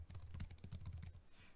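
Quick, close run of computer keyboard keystrokes as a graph title is entered, a steady rattling burst of clicks that stops near the end.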